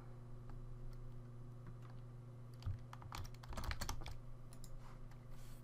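Keys clatter on a computer keyboard as a command is typed into a Minecraft Bukkit server, a short burst of close, rapid clicks over a steady background hum.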